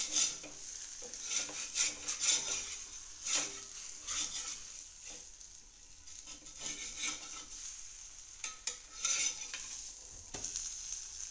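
Methi paratha fries in oil on a hot griddle over a gas flame, giving a soft, continuous sizzle broken by scraping and rubbing of a spatula, close and fairly quiet, with no talk.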